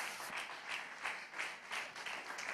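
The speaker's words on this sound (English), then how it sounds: "Clap your hand if you believe God." Church congregation clapping hands during a sermon, faint and distant, in a loose rhythmic pattern of repeated bursts roughly every half second.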